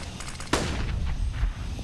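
Gunfire in a Counter-Strike match on the Cache map: a sharp, loud shot cracks out mid-clip over a background of game ambience, followed by fainter scattered reports.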